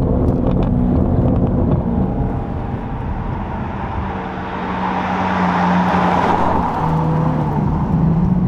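A Maserati fitted with a Quicksilver exhaust roars loudly up close as it accelerates, the engine note rising and falling through gear changes, with wind rush and road noise filling the cabin.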